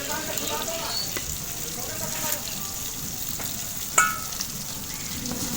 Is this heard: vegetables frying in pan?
yes